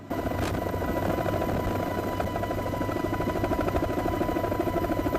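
CH-53K heavy-lift military helicopter roaring loudly and continuously, with a dense, steady engine and rotor drone throughout.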